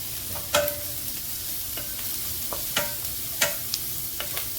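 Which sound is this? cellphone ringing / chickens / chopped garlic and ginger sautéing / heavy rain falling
chopped garlic and ginger sautéing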